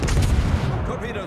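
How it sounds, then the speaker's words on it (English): Main guns of the Italian battleship Conte di Cavour firing in World of Warships: a loud, heavy booming salvo rumbles up front, then slowly rolls away into a fading tail. "I'm gonna shoot against the destroyer."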